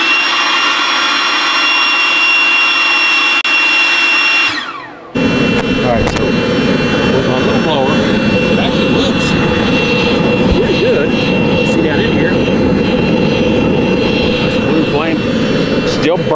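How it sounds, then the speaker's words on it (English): A small blower feeds a waste oil burner built from scrap, starting with a steady tonal whine, a brief dropout, then a loud, constant jet-like roar with some clattering and rustling. "Really, really hopeful that this little blower will work."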